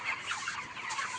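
Several chickens cluck steadily on a poultry farm, a busy, continuous flock chatter with overlapping calls and no voices.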